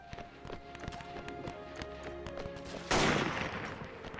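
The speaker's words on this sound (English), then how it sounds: "Oh, they are firing still." Troops fire guns in a war strategy game, with scattered distant gunshots and footstep-like patter over a steady battle bed, then a sudden louder burst of noisy fire near the end.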